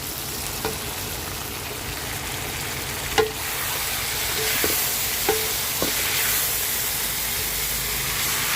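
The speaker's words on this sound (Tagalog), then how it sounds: "Haluin ko muna saglit." Adobo chicken sizzles in a pan while being stirred, giving a continuous frying hiss with a few sharp scraping knocks from the utensil against the pan.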